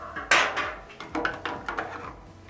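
Metal parts of an Uzi submachine gun being handled as the bolt is removed, close, light clinks and scrapes in a short irregular series.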